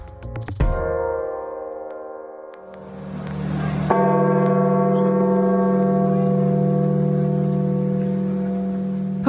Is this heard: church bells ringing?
yes